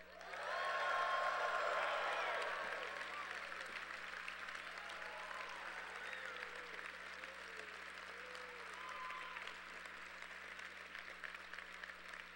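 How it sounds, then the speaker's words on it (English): A large commencement audience at the UT College of Engineering spring ceremony breaks into loud, sustained applause with scattered whoops and cheers, peaking early and then settling into a steady, dense clapping that continues to the end. "So let's see a noisy, rousing round of applause."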